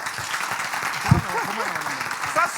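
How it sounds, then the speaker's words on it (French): Applause from an audience on a French-language television entertainment show, a moderate wash of clapping running throughout, with a voice speaking briefly over it. "Bravo, on l'applaudit."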